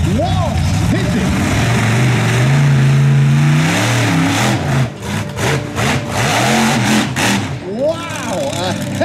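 A car, near a BMW at a jumping event, accelerates hard toward a jump, its engine climbing in a loud rising rev before cutting to rattling bangs and a brief whine, with people talking and shouting over it.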